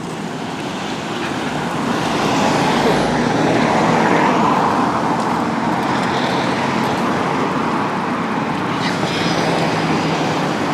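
On a countryside road, a BMW's engine burbles under a loud, steady roar of passing traffic and road noise that lasts throughout.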